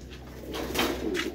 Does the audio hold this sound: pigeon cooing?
yes